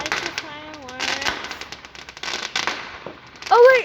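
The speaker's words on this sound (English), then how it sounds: "I like the fireworks." Guy Fawkes fireworks bursting outdoors in New Zealand, with crackles and pops spread through the clip beneath excited chatter and a voice, ending in a louder close burst.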